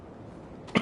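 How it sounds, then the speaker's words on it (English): A single short cough from a person recovering from a cough, heard near and alone at the very end after a quiet stretch. "still recovering from the cough"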